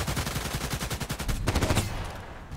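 AK-12 assault rifle in the online shooter Contract Wars fires long, rapid automatic bursts, loud and close, with a brief pause before a final burst trails off, no voice over it.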